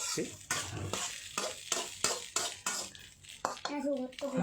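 Shrimp stir-frying in a pan, with steady sizzling broken by rhythmic scraping strokes of a utensil against the pan, and a voice speaking near the end.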